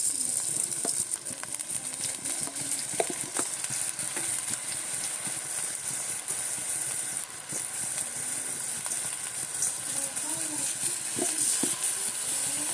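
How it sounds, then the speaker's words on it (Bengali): Washed rice being stirred and fried with browned onions in a pot for white pulao, giving a steady soft sizzle with scraping stir strokes and faint clinks, continuous and close. "দিয়ে একটু ভালো করে ভেজে নেড়ে চেড়ে নিচ্ছি"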